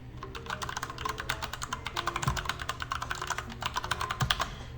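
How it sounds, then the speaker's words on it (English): Rapid typing of a long password on a computer keyboard during Raspberry Pi 4B cluster setup, a dense run of quiet, close key clicks with a couple of heavier thumps. "Type my impossibly long password."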